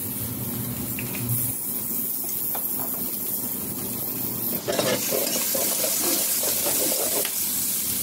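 Olive oil heats and sizzles in a pan for squid in oyster sauce, a steady close crackle joined by clinks and stirring noises, growing louder and busier partway through.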